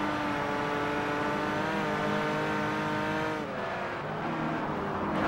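In Forza Horizon, a race car's engine drones at high revs with a strong harmonic whine that shifts pitch, then drops sharply as the driver downshifts, with tire noise underneath and no talking.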